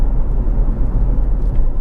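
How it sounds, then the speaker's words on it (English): A Honda CR-V 2.0 i-VTEC Executive petrol engine idles smoothly, a loud, steady low rumble with no voices over it. "engine starts absolutely instantly, of course, settles to completely smooth, even idle"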